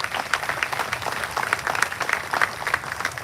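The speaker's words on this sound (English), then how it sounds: "Please, a round of applause for them too." Dense, steady applause from a crowd at the Texas Peace Officers' Memorial ceremony, many hands clapping together in a sustained, moderately loud indoor wash.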